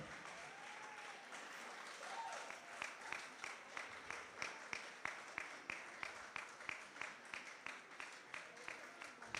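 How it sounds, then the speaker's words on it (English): Sustained applause from a graduation ceremony audience, a dense wash of clapping that grows into a steady rhythmic beat of unison claps, with faint voices underneath. "Give them another round of applause"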